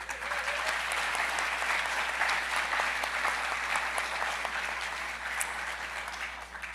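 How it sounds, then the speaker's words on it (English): At a college opening-day gathering, an audience gives sustained applause for staff reaching service milestones and for recent retirees. The clapping is thick and even, holding strong throughout before easing slightly near the end. "A round of applause for each one reaching a service milestone and in thanks for the service of our recent retirees."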